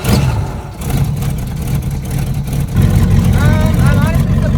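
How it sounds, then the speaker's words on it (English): A 1985 T-top Ford Mustang Foxbody, fitted with a Performer intake, cold-starts and settles into a loud, steady, rumbling idle close by, with a voice audible over it. "So we're gonna do a pure cold start."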